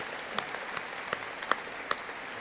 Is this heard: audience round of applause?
yes